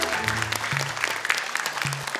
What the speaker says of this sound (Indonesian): Tepuk tangan dulu dong untuk Ryan